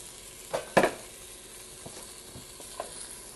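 Carrots are added to a pot for tortilla soup, with a few sharp clatters and stirring scrapes over a faint sizzle, close and without talk.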